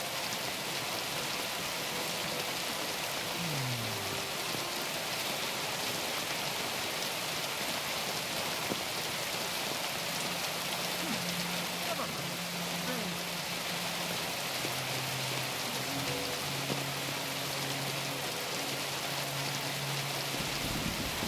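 Steady rain falling over an outdoor scene in Kingdom Come: Deliverance 2, a constant soft hiss throughout with faint low voices and tones underneath.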